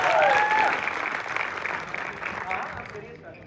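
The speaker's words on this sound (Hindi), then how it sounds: "एक बार कुशल भाई के लिए जोरदार तालियां।" An audience at a live stage event claps loudly at first, with a bright vocal whoop, then the applause thins and fades over a few seconds as voices carry on underneath.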